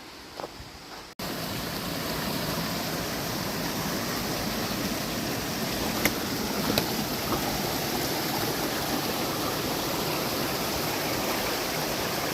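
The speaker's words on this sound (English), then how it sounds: "looks like a waterfall down there" A steady, full rush of falling water fills the scene after a brief quieter moment, continuous and close, with a few faint clicks on top.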